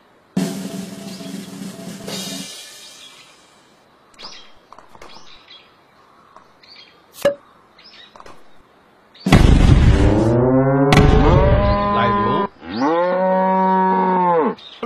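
Cow mooing in the video game Totally Normal Deer, loud drawn-out moos in several long calls, with faint chirps and scattered clicks between them.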